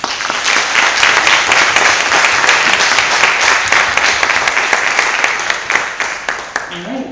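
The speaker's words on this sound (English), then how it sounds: "a big applause for our 5 amazing panelists" An audience at a veterinary student congress panel discussion bursts into loud, sustained applause, dense clapping that holds for several seconds before starting to thin out.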